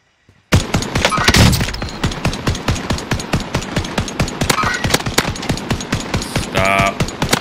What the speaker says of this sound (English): I don't know if I'm getting shot at or somebody else is getting shot at